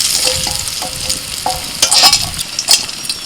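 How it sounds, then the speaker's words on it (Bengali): Bay leaves, dried red chilies, fenugreek seeds and whole cumin crackle and sizzle in hot oil, with sharp pops and bursts of spitting over a steady frying hiss. "ফোড়নের মধ্যে দিচ্ছি তেজপাতা শুকনো লঙ্কা মেথি গোটা জিরে"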